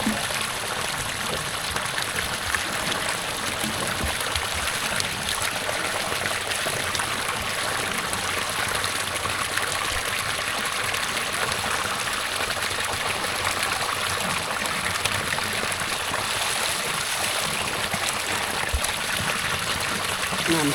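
A mountain stream flows past a village, a steady, continuous rush and trickle of water that stays even and fairly loud throughout, with no clear speech over it.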